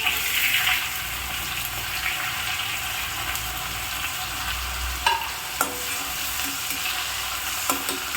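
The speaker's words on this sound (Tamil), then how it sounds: "இப்போ ஒரு வெங்காயம் நறுக்கினதை நம்ம போட்டு நான் வதக்குவேன்." Chopped onion sautés in a pan of hot oil with mustard seeds, a steady close sizzle and frying hiss with a few sharp crackles and stirring scrapes, no voices.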